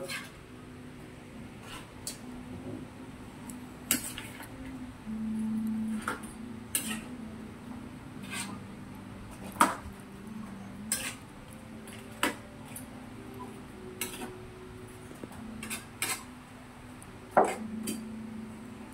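Coconut milk stew of jackfruit with shrimp and crab being stirred in a pot: a low steady simmer with irregular sharp clinks and scrapes of a utensil against the pot, moderately near and fairly quiet.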